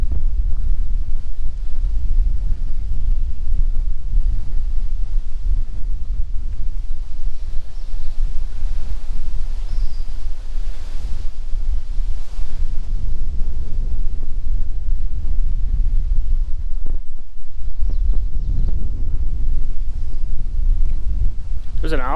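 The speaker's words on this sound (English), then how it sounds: "It is pretty windy." Steady, heavy wind roars and buffets the microphone outdoors at an abandoned ghost town in Wisconsin for the whole stretch, with a rumbling low end and brief gusty swells.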